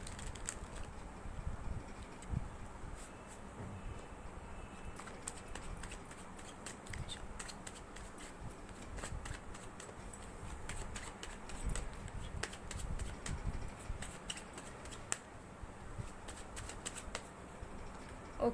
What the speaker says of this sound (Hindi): तो जब तक मैं शफलिंग कर रही हूँ आप लोग प्लीज़ पॉजिटिव रहिए।